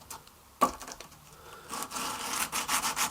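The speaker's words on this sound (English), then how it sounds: "Bit of light machine oil, in this case WD-40. And then it's a matter of rubbing." Steel knife blade rubbed back and forth by hand with a little WD-40 light machine oil, giving a soft, close, rhythmic scraping after one sharp knock.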